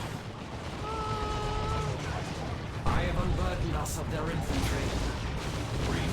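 Deep booming shots from a D cannon in Dawn of War II: Retribution, heavy blasts rumbling beneath someone talking over the game's battle noise.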